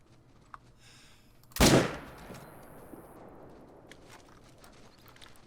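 A single loud, sharp hunting rifle shot rings out in the video game Call of the Wild, followed by a short fading echo. Before and after it, the outdoor surroundings are quiet and faint.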